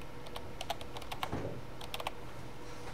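Typing on a computer keyboard while entering code, scattered light key clicks in two short flurries separated by a pause, faint and close against a steady background hiss, with no talk.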